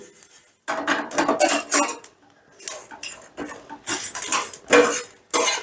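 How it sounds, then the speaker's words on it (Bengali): A handful of cashews and spices stirred and fried on a very low gas flame, bursts of metal spoon clattering and scraping against the pan in uneven, repeated strokes with quiet gaps, close and without talk. "এবার গ্যাসের আঁচটা একেবারে লোতে রেখে আমি এরকমভাবে নেড়ে চেড়ে এটাকে একটু মুচমুচে করে ভেজে নেব"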